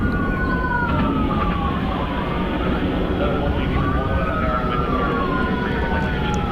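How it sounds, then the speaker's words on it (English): A wailing ambulance siren rises and falls in long overlapping sweeps at Hartsfield-Jackson airport in Atlanta, carried over a constant heavy rumble of aircraft engines. "Seems to be an ambulance."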